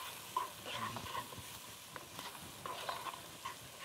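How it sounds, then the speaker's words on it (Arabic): Onion and garlic frying in a pan while a utensil stirs them, giving a steady low sizzle broken by repeated clinks and scrapes of stirring, close and fairly quiet, with no talking. "وهنزل عندي بقى بالبصلة والثوم، وأقلبهم"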